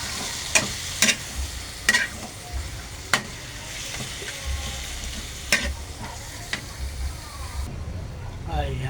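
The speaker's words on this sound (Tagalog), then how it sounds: "Ihulog na natin guys yung pusit. Wow! Tignan natin, halo-haloin natin." Squid frying in a pan for adobo and being stirred, with a soft continuous sizzle broken by sharp utensil scrapes and clacks at irregular intervals.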